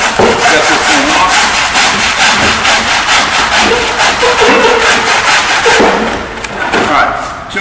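A 2-inch-thick building block being sawn through by hand, with steady rhythmic back-and-forth rasping strokes, loud and close, continuing without pause for several seconds.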